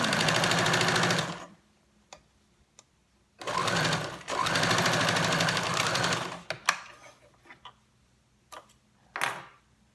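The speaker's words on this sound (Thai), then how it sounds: "แล้วก็ไปเย็บอีกด้านหนึ่งค่ะ ก็ย้ำหน่อยนะคะตอนเริ่มต้น" A sewing machine stitches elastic-waist shorts fabric in two steady, close bursts of rapid mechanical whirring, followed by quiet clicks, handling noises and a short final burst.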